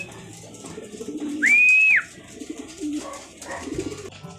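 Pigeons coo softly in a loft, with one clear, higher call standing out over quieter cooing and background rustle.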